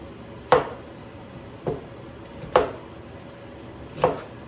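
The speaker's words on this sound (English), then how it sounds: "I'm just giving mine a quick little rough chop." Knife rough-chops half an onion on a board in four distinct, evenly spaced thuds, close and fairly crisp, with a quiet background and no talking.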